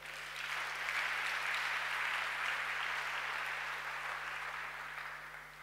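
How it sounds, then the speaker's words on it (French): A church congregation applauds during a Sunday service, a steady wash of many hands clapping together that swells and holds, then slowly fades, with no talking over it. "Acclamons le Seigneur."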